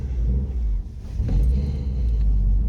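Subaru STI car pulling away at the start of a drive, a steady low engine rumble that swells slightly partway through, close and continuous with no talk.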